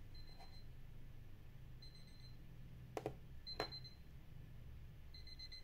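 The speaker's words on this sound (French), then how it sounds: "chercher les écouteurs, tu entends un bruit. En fait, il sonne." QCY HT05 earbuds play their find-my-earbuds alert, short high beeping chimes repeating faintly over a quiet room hiss, with two brief sharp clicks in between.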